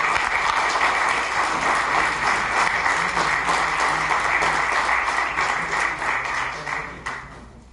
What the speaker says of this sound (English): Let's clap our hands for him at this time.